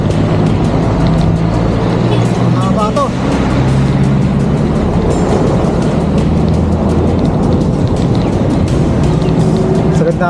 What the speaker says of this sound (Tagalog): Marami mga sasakyan.